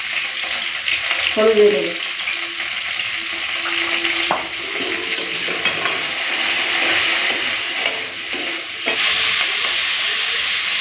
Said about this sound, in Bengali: পেঁয়াজ কলি আর বেগুন একসাথেই হালকা ভেজে নিচ্ছি